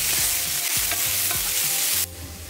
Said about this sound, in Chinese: 加进鸡油菌翻炒一下